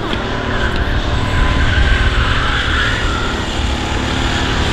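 A race car pulling away onto a warm-up lap at the Igora Drive circuit, its engine a steady, loud roar that holds close and constant throughout with broad rumbling low end.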